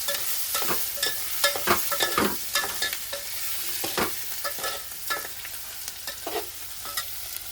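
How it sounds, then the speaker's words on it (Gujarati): A spoon stirs and scrapes through potatoes frying in a pan with coriander, chilli, turmeric and salt, with steady sizzling and irregular clinks and scrapes, close by and alone. "ધાણા મરચું હળદર ને મીઠું તણે બધું મસાલામાં નાખી દઈશું પછી આપણે હલાવી નાખીએ"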